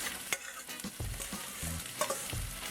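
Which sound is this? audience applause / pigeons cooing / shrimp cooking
shrimp cooking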